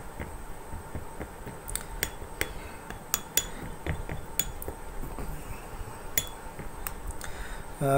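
A spoon mixes multani mitti and rose water paste in a bowl, producing irregular light clinks and taps against the bowl over a quiet background.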